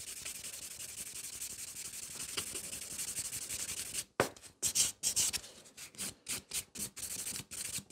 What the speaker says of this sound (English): take a buffer and just buff and smooth out this nail